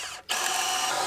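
A power drill bores a hole into the end of a log while a farm fence box section with gate is built; its loud, steady whine runs for about a second after a brief pause near the start.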